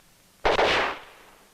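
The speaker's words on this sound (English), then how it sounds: "We do it by firing a string of specially designed charges." A perforating gun charge fires inside an oil well casing, giving one sharp, muffled blast that decays over about half a second and leaves quiet afterward.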